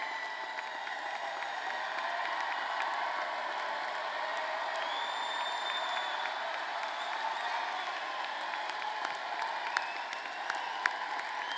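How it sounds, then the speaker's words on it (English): Sustained applause from a large commencement ceremony crowd, steady and dense throughout, with a few scattered whoops and cheers rising above the clapping. "We applaud all of you for a job well done."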